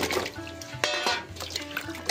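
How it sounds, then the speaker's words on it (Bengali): Sandy new potatoes are washed by hand in water, with a continuous loud sloshing and splashing close by and rising bursts of churning water. "আলুতে প্রচুর বালি, একবার ধুলে আর হয় না এই আলু, 2-3 বার ভালো করে ধুতে হয়"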